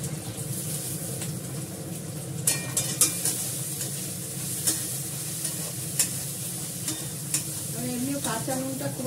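Meat coated with salt and turmeric fries and is stirred in a pan, giving a steady, close sizzle broken by scattered scraping and clacking strokes from the stirring utensil.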